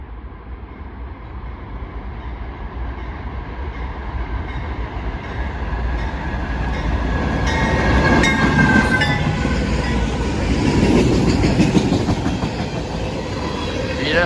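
A Norfolk Southern freight train rolls past on railroad tracks at Bayview Road in Blasdell, New York, a loud rumbling roar building as the cars near, with rhythmic wheel clatter and faint metallic squeal over a continuous pass.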